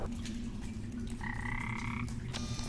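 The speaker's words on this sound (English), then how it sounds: "You frogs are making a lot of noise." Frogs croaking in the cave video game Cavephobia, a steady chorus of croaks over a low droning hum, with one longer, higher trill near the middle.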